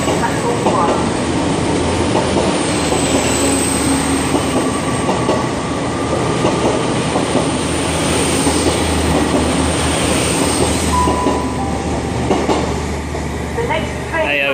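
A GWR IET train runs through a station on the Great Western Main Line at Westbury, a loud, steady roar of wheels on rails with clattering and a faint squeal as it passes close by, under a platform announcement.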